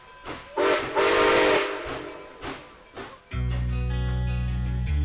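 A Western New York and Pennsylvania Railroad Santa train hisses steam in rhythmic chuffs, then a loud, sustained train whistle blows steadily close by.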